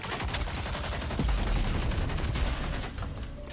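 Rapid gunfire in the online shooter Rogue Company, with a D40 among the weapons: dense bursts of automatic shots fired continuously at close range, loud and steady throughout, with no talk.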